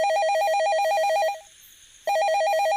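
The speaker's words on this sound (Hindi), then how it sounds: "फोन बजने लगा।" An old-style telephone rings loudly with a rapid trilling electronic bell, one long ring, a brief pause of silence, then the next ring starting.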